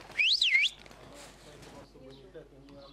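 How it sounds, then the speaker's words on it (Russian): Domestic pigeons are flown by a keeper: two bright whistling chirps come close together at the start, followed by a faint, cluttered outdoor background. "как прежде, гоняет голубей"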